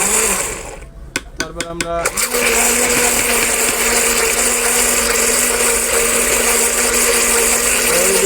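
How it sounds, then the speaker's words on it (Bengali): An electric blender whirs loudly and steadily, blending a menus mixture, after a few short stop-start pulses at the beginning; a voice speaks briefly near the start. "মেনুসটা কিছুক্ষণ ঘুরিয়ে নিলাম, যেটা মনে করেন ব্লেন্ডার করে নিলাম"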